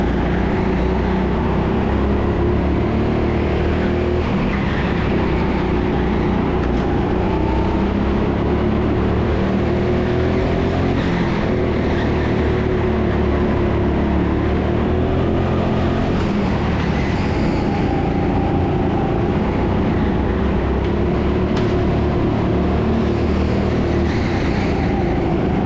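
Go-karts race around an indoor track at TeamSport Sheffield, their engines producing a continuous, dense drone that rises and falls as the karts pass, with no talk.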